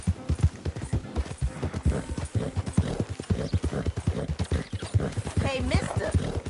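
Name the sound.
horse hooves clip-clopping in a video game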